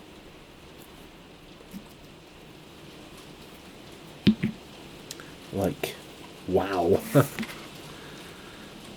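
Heavy rain keeps up a steady hiss in the background while a voice speaks briefly over it, with a few louder spatters mixed in.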